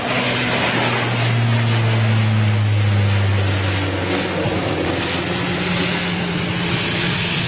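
Aircraft departing Manchester Airport, a loud sustained engine roar with a low droning hum that holds steady throughout, heard alone without talk.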